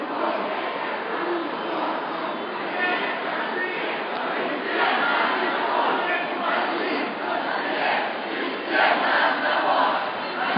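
A large crowd chants and shouts in unison at a Victory March in Odessa, a dense rhythmic roar of many voices that stays loud and sustained throughout.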